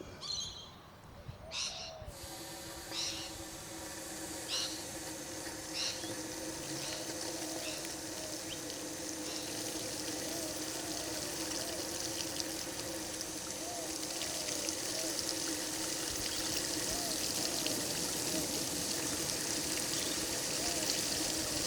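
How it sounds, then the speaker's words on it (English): Water gushes steadily from an irrigation outlet during a field pressure and flow test at 600 kPa, a continuous broadband rushing that holds even and loud after a brief start, with faint bird calls in the background. "Just turn this on, get some water out."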